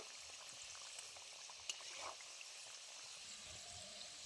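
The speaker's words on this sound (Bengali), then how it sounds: "হালকা আঁচে ভেজে নেব এপিট ওপিট করে খুব ভালো করে এগুলো খাস্তা করে ভেজে নেব" Potato kachori frying in oil over low heat gives a faint, steady crackling sizzle with a few small pops, and no voices.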